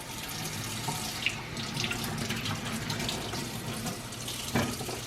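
Tap water runs steadily into a sink while tomatoes are washed, a continuous close splashing rush with small knocks and handling sounds, no voices.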